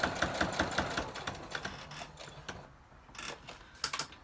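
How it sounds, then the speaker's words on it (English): Sewing machine running a straight stitch along a fabric edge, quiet rapid mechanical clatter in short bursts that pause and restart. "Just stitching along the edge,"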